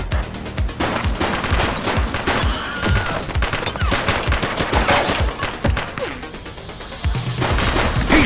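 Loud gunfire in a police video game, dense bursts of rapid shots and automatic fire rattling almost continuously, with occasional crashes mixed in.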